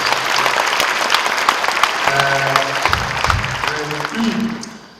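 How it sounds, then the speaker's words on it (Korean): A church congregation at a special prayer service and worship gathering in Korea breaks into sustained applause, a dense crowd clapping that fades toward the end while a voice speaks over it. "박수 한번 해주시면 좋겠습니다"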